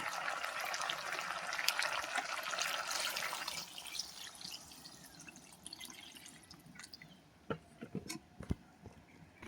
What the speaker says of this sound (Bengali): ঝোলের পানিটা দিয়ে দেবো